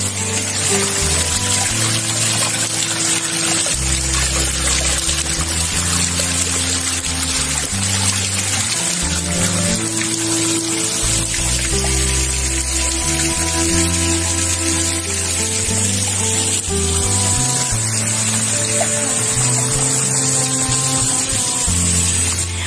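A small waterfall trickles and splashes with only a little water flowing in the dry summer season, a continuous, even wash of falling water that runs steadily throughout, with a low rumble underneath.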